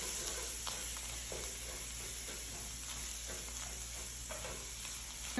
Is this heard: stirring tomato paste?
yes